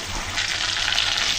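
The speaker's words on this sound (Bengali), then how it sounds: "সুন্দর করে আমি সব মশলা কষিয়ে নেব তরকারির সাথে" Spice paste with cashew paste fries together with taro curry in a pan, a dense, loud, continuous sizzle and crackle that runs without pause for the whole short stretch, no one speaking.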